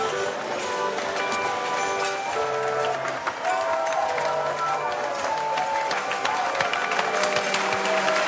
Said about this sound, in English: And the whole room applauds